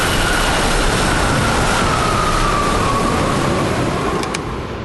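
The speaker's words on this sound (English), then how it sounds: "It's hard to stop a train." A train runs on a test range, a loud, steady roaring rumble with a faint tonal whine sliding slightly downward, continuous and close, fading a little at the end.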